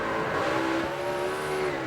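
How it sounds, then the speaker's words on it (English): A NASCAR race car spins out at Texas in 2007, its engine roaring loudly and continuously at close range as it slides and recovers. "He spins it, saves it, gets going."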